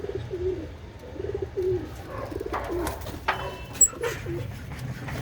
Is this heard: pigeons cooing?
yes